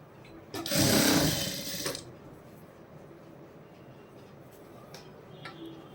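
A sewing machine stitches a neck patti at a folded cloth edge in one loud, close burst of about a second and a half, then stops, leaving quiet room noise with faint handling sounds.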